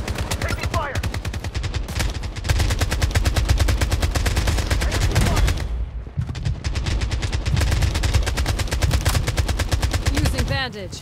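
Loud, sustained automatic gunfire from the shooter game BloodStrike, rapid repeating shots continuing for most of the stretch with a brief lull midway, plus scattered in-game voice callouts.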